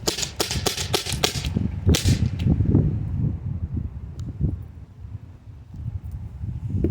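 A Byrna HD launcher fires a rapid string of sharp, cracking shots close by, then a pause before a second burst follows with a few more scattered pops and handling noise.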